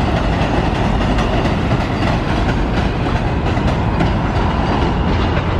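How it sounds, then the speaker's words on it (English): A New York City subway F train rumbles past loud and close, with steady clickety-clack of wheels on rail joints throughout and no speech. "Oh, that's the F train."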